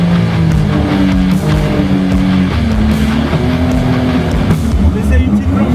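Seabreacher shark-shaped 300 hp boat accelerating on water, a steady loud engine drone with rising tonal whine, continuous throughout with people talking over it.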